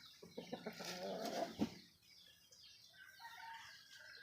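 A thin, sickly lasak chicken that will not eat gives a few short clucks close by, with soft rustling and faint flapping, then quiet farm background.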